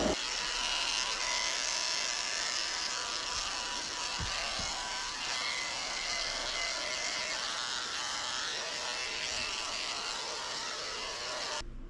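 Four-blade electric dog clippers trimming a Maltese Poodle mix, a continuous high buzzing whir running steadily and close throughout, with faint brief knocks as the blade moves.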